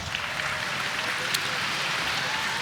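Applause from the audience at a youth female archery competition final fills the space, a steady, moderate patter of clapping with speech faintly mixed in.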